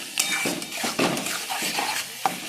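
Masala stirred and fried in a pan over a gas flame, with a spoon scraping and clinking against the pan in uneven strokes and a soft sizzle beneath, no talking.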